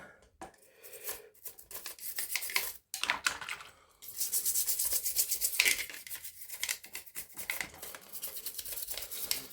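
A muddy plastic Nerf toy gun being scrubbed clean in a toy-cleaning bath, giving bursts of bright, hissing, scratchy brushing with clattering handling and brief pauses, close and fairly loud, with no voices.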